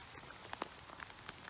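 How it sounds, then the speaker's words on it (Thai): Light rain patters on surfaces in a Swedish forest during a mushroom-gathering outing, with scattered soft drops ticking irregularly over a quiet, faint background and no talk. "ฝนค้ําหัวพี่น้องฝนค้ําหัวเด้อค่ะ"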